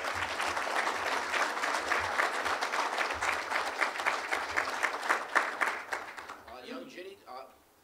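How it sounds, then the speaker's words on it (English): An audience at a talk about Chicago's Lake Shore Drive breaks into sustained applause, dense clapping that holds steady for several seconds before thinning out, with a voice speaking as it dies away. "I want a round of applause for the..."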